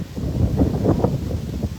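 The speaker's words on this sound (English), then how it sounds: "I know it is kind of windy here" Wind buffets a microphone outdoors at the Hyatt Zilara and Hyatt Ziva resort in Cap Cana, a loud, close, rumbling gust noise that stays steady throughout with no one speaking.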